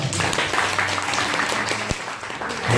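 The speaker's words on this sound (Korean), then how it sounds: "아프지 말고 건강하라고 큰 박수 한 번만 보내주시죠" Guests at a first birthday party in a banquet hall clap together, a loud, dense burst of applause filling the room, with faint voices and a brief low thump partway through.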